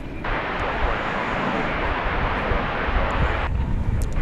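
An American Airlines jet departing Dallas/Fort Worth Airport roars steadily and loudly as a continuous broadband engine rumble, sustained at full strength throughout with no break or fade.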